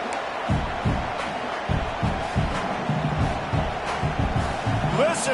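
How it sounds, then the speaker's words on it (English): A dense American football stadium crowd roars steadily throughout, a constant wash of cheering and shouting with scattered louder bursts, trying to help their defense. "Listen to this crowd"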